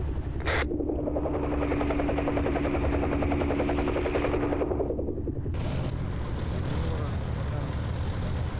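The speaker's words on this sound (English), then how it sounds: "that's an MI-26 in the middle of the fucking sky that can see us right now" A heavy Mi-26 transport helicopter drones loudly overhead in a military video game, its thudding rotor hum swelling then fading, with radio-style talk over it and a short sharp burst at the start.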